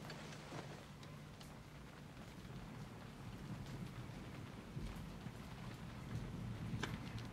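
Rain falls steadily in a film scene, a soft continuous hiss with low thunder rumbling in the background, growing slightly louder toward the end.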